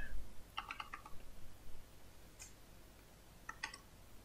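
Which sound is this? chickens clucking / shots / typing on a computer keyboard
typing on a computer keyboard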